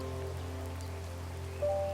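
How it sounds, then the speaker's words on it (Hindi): Heavy rain falling on a cold winter night, a soft steady hiss under a low background hum, with a faint tone entering near the end. "हाँ, बहुत जोरदार की बारिश हो रही है।"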